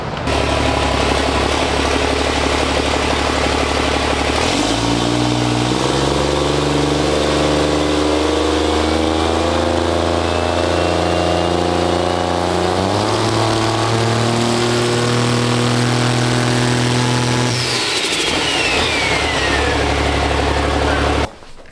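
A Cummins diesel engine fitted with Flux injectors idling loudly up close, then revving up in stepped rises and holding higher speed before dropping back to idle and shutting off.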